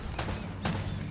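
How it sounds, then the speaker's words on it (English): Two loud sniper rifle shots, about half a second apart, ring out in Uncharted: Drake's Fortune over a low background rumble. "That's a sniper."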